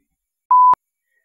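A single steady electronic beep from a Radiomaster TX16s radio transmitter, lasting about a quarter second, clean and alone with no talk around it.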